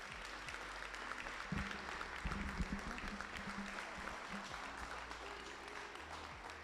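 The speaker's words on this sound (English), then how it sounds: "Can y'all give them a round of applause, please?" An audience at a fire department swearing-in ceremony applauds, a steady wash of many hands clapping with low hum and murmur beneath, moderately distant and sustained throughout.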